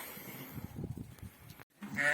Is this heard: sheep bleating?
yes